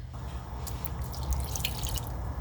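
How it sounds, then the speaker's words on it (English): Water trickling and dripping steadily into a bowl of dough, close by and continuous, with small splashy drips throughout. "Let's just add some more water."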